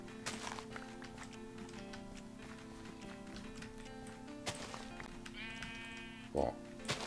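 Sheep bleat in the TechWorld 2 video game, a short bleating call rising near the end over a steady droning game soundscape with background music.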